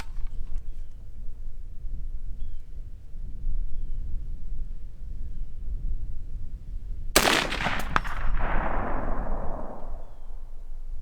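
A Colt A2 Government Carbine clone (727) fires a single loud, sharp report at a range, its blast ringing out and decaying for a few seconds over steady outdoor background noise.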